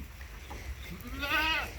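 A single goat gives a short, wavering bleat near the end, faint and a little distant against low background noise.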